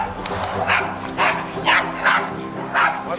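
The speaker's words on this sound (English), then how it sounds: "Now it's the dog" A dog barks repeatedly on a street in Greece, about five sharp nearby barks spaced in an uneven rhythm.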